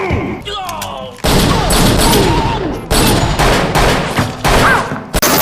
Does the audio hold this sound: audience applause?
no